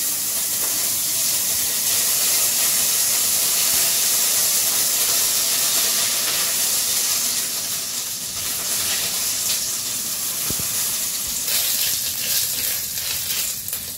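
Cumin, bay leaf, dried chili and crushed ginger sizzle in hot oil for vegetable khichuri, a steady close hiss and crackle that runs throughout with slight shifts in intensity.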